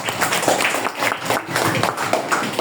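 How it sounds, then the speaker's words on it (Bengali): Classroom clapping from fifth-grade students after a science experiment presentation, a steady patter of hand claps lasting about three seconds with some voices mixed in. "হাততালি।"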